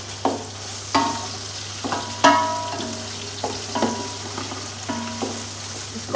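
Onions, ginger and garlic frying and being stirred in a pan, a soft steady sizzle broken by several sharp scraping and clinking strokes of a spoon, close up with no talking.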